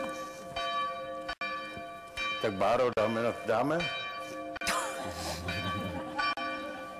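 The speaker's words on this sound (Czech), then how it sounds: "Kdo přeřve zvony, schválně." Church bells ringing loudly and steadily, their repeated strokes sustained throughout, while people talk and laugh over them.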